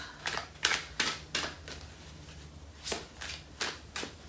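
Cards are handled in quick bursts, a series of crisp riffling snaps with short pauses between them, close and fairly quiet.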